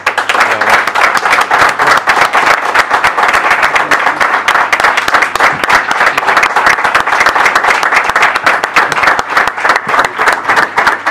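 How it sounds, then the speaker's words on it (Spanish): Sustained audience applause, dense and steady, many hands clapping at once for about ten seconds with no break. "yo casi para cerrar pediría pues un gran aplauso para Pachi"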